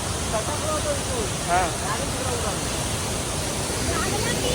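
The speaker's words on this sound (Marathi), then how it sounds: "इथे म्हणजे पाण्याचा प्रवाह बघा वाढतोय" A Konkan waterfall near Lanja, Ratnagiri, swollen by rain, roars as a steady, broad rush of falling water that stays even and close throughout, with a faint voice briefly audible underneath.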